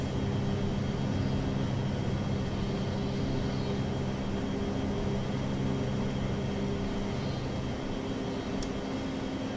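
A Captain Sim 737-200 jet in Prepar3D roars steadily through its takeoff, with a constant loud engine rumble and whine carrying a low droning hum, no pauses and no talking.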